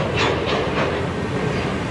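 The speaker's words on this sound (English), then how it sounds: "The next train is a Chicago and Northwestern." A Chicago and North Western train rolls past at Palmer Lake in 1993, a loud, steady rumble with rhythmic clickety-clack of wheels over rail joints, heard close with no talking.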